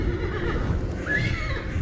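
A horse whinnies briefly amid a dense, rumbling battle-like backdrop, its high wavering neigh rising out of the steady low noise around the middle, with no talking.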